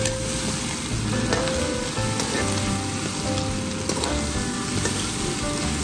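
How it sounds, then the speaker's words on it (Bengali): Ginger paste and garlic paste fry in a pan while being stirred, giving a steady, close sizzle throughout with no voices. "ভালো করে কষিয়ে নিচ্ছি।"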